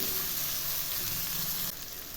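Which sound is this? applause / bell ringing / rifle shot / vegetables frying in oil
vegetables frying in oil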